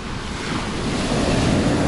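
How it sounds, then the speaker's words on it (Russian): Ocean waves surge and wash onto the shore at Kudepsta, Sochi, in a continuous roar, with wind buffeting the microphone. "Слышите, волны прям неплохо так фигачат"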